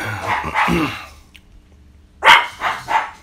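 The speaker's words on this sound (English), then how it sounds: "My dog's gonna bark in a second." A dog barks in a garage workshop, a quick burst of loud, close barks at the start, a short quiet gap, then another run of sharp barks near the end.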